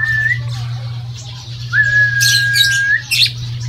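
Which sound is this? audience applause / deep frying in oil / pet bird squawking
pet bird squawking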